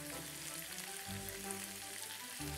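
Italian sweet sausage and fresh minced garlic fry in a pan, a steady close sizzle with faint low stirring bumps throughout.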